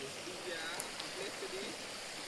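A small waterfall pours steadily in the background as a soft, continuous rushing hiss, fairly faint, with a few quiet voices over it.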